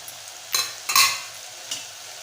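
Sprouted red cowpea usal, Malvani style, is stir-fried in a pan with spices: a few distinct scraping stirs, close and fairly loud, over a faint steady sizzle.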